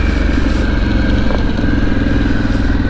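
Harley-Davidson Pan America Special motorcycle engine held at full throttle, a loud steady throbbing roar close by with a low pulsing rumble, running alone without talk.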